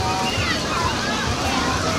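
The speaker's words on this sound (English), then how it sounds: "there's a wave pool in the back" Water sloshes continuously in a crowded amusement park wave pool, a dense churning wash mixed with distant crowd babble.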